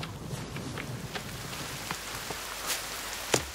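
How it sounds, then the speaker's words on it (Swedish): Rainfall in a video game, a soft steady patter of drops with occasional faint sharper splashes, fairly quiet and even throughout. "Åh, det regnar."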